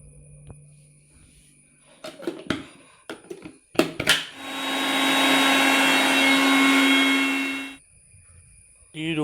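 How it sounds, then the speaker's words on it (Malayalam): A mixer grinder powders dried drumstick leaves: after a few knocks and handling clatters, the motor whirs loud and steady for about three and a half seconds, then cuts off. "നമുക്കിത് മിക്സിയിലിട്ട് പൊടിച്ചെടുക്കാം കേട്ടോ."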